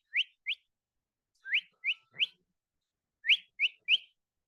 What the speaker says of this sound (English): that's the sound of a bird